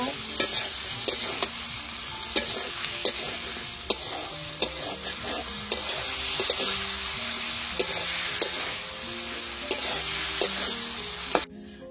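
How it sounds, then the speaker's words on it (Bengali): Cut potatoes frying with spices in a pan for a Bengali river fish curry, with a continuous sizzle and repeated sharp scrapes and taps of a spoon stirring, close and steady. "আলুটা খুব ভালোভাবে কষিয়ে নিব।"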